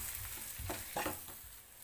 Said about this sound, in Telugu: ఇవన్నీ చక్కగా మిక్స్ అయ్యేవరకు కలుపుకుందాం